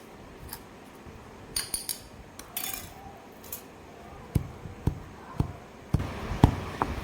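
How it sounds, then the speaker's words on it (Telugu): Gongura chutney is pounded in a mortar, giving a series of dull, knocking thuds that grow steadier and more regular after faint clinks and scraping at the start, close and moderately loud. "ఇలా కలుపుకొని ఒకసారి మళ్ళీ బాగా దంచుకోవాలి."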